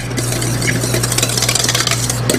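Loud mechanical whirring of a mixer blending gelatin into a chocolate sabayon, a steady motor hum with constant churning texture and no pauses.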